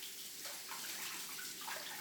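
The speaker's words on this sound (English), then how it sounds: "Let me rinse my spoon." A spoon rinsed under running tap water in a home kitchen, a soft steady stream of water splashing quietly for a couple of seconds with no voices.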